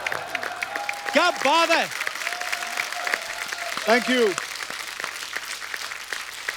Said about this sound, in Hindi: जोरदार तालियां अक्षय पाजी के लिए